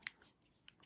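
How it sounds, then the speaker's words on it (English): Scissors snipping through crochet yarn: two quick, crisp snips, the first near the start and a fainter pair toward the end, close and isolated with no talk. "Cut your yarn."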